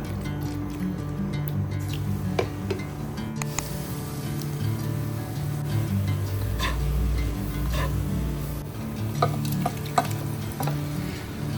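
Avial being stirred in a pan with chilli flakes and salted fruit, a continuous soft sizzle with repeated scraping and clicking of the spoon against the pan, close and steady.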